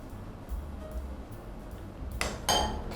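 Utensils clinking against a bowl while a dipping sauce with sugar and bottled fish sauce is mixed, a faint low stirring background followed by two sharp metallic clinks near the end.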